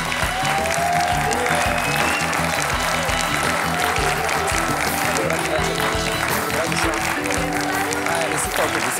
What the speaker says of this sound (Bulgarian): Аплодисменти за момичето с крака на модел и глас на ангел.